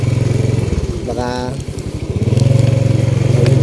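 Motorcycle engine chugging and revving at close range while riding a rocky, muddy road, pulsing throttle changes with a brief rise mid-clip, someone speaking over it.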